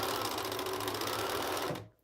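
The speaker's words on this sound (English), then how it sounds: "I'm going to sew them all and then we'll press them all together" A sewing machine runs in a fast continuous stitching whir while joining quilt pieces, close and steady, then stops abruptly at the end.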